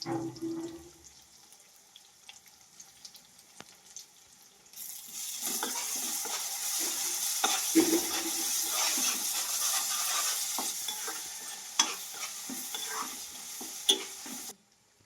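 Garlic drops into a pan of frying onions and green chillies; after a quiet stretch a loud, steady sizzle erupts and continues with scraping stirring sounds, no talking.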